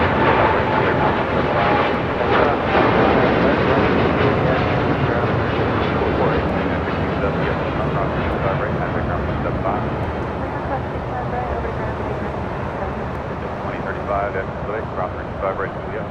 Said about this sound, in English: That was United Dreamliner taking off, heading to Tokyo Narita, flight 32, the 787-10 Dreamliner